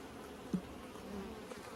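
Honeybees buzzing around an open hive holding dark uncapped brood, a steady faint drone with one brief closer buzz passing the microphone.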